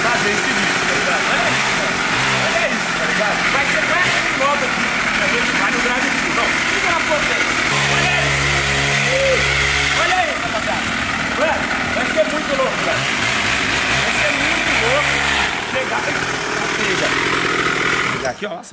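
A mini motorcycle engine buzzes at a loud steady idle close by, with a brief rising rev in the middle, while someone talks over it throughout; the engine cuts off at the very end.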